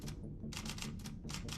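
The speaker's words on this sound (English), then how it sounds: "The typewriter is in both worlds." A typewriter in the TV series Fringe clacks out quick bursts of keystrokes in uneven clusters with brief pauses between them, heard over a low background hum.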